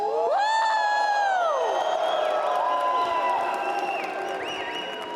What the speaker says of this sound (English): We have such passionate fans in the crowd tonight.